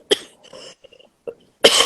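Several coughs from a woman at an indoor family talk, a sharp burst early, softer throaty sounds in the middle and a loud, longer rasping cough at the end, with quiet gaps between.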